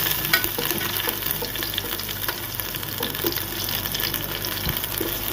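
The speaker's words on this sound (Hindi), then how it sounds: "शिमला मिर्चें और चिकन को फ्राई करेंगे।" Chicken pieces and capsicum fry in a pan, giving a steady, close sizzle and crackle with occasional stirring scrapes throughout.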